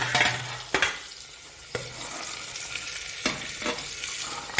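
Beans, carrots and other vegetables sizzle in hot oil with garlic and ginger in a pan, with close scraping stirs at intervals over a steady crackle; no one speaks.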